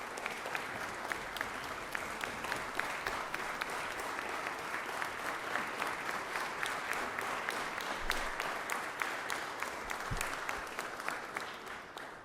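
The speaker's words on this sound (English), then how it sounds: "Please give them a round of applause" Georgia Senate chamber applause for staff during a legislative session, a steady, even round of many hands clapping that carries on for several seconds at moderate distance without any talk.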